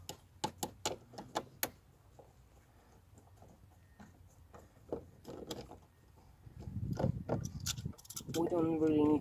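Small metallic clicks and rattles as screws come out of the rear trim of a VW Sharan (7N), a quick cluster of sharp ticks followed by quieter handling noise and then louder rustling and a brief voice near the end.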